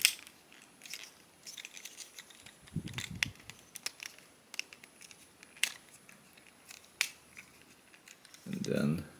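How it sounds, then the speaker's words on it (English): Plastic panels of a Transformers Studio Series Deluxe Class Autobot Jazz action figure are pressed and clicked into place, giving sharp close snaps and crinkly plastic handling noises, with someone talking briefly between them. "first we click this panel in here"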